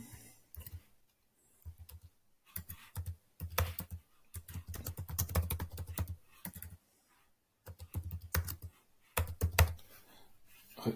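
Someone types on a computer keyboard in quick irregular bursts of close, crisp key clicks separated by short pauses, quiet overall and without talk.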